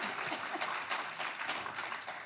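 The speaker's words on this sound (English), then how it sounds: "You can applaud for that, yeah." Audience applause at a public-schools address by the San Francisco superintendent, a dense, steady patter of many hands clapping at moderate distance through the whole stretch, with no talk over it.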